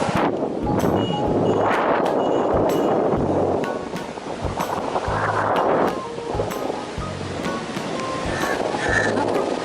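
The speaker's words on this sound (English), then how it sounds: "Look at those waves." Ocean waves wash and break continuously along Murdeshwar beach, a steady loud roar of surf with wind buffeting the microphone throughout, no voices present.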